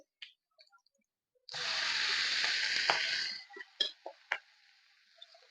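Vegetables hit a hot oiled pan with a loud, steady sizzle for about two seconds, then settle into quieter crackles and a few clicks of a spoon against the pan.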